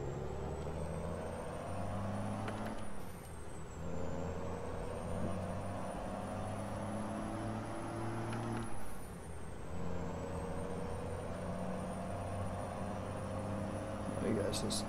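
A Kenworth W900 heavy-haul truck in American Truck Simulator idles with a low diesel drone, while two sharp air-brake hisses and rising engine revs recur at intervals; a steady high whine runs throughout.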